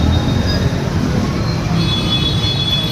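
A train rolls across a bridge over a river near a three-river confluence at the Maha Kumbh Mela, a loud steady rumble with wheel clatter and a few faint high squeals, continuous throughout.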